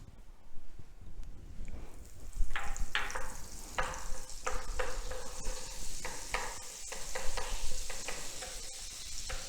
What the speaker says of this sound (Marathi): एका पॅनमध्ये आपण थोडंसं तेल घ्यायचं आहे कारण कसं आहे की बटर नुसतं टाकलं की बटर जळून जातं तेल घ्यायचं आहे त्यामध्ये बटर टाकायचं आहे